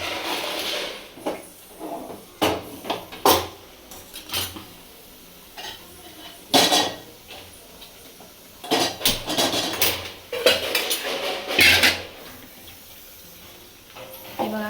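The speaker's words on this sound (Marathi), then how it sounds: "झालं उतरवा कुकर." Metal pots and a pressure cooker clatter and clank in a home kitchen during biryani cooking, with irregular nearby bangs and scrapes spread across the stretch.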